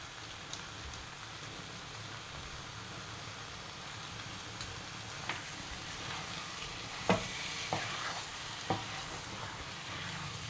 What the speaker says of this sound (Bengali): আমি মাংসটা প্রায় 20 মিনিট ধরে কষে নিয়েছি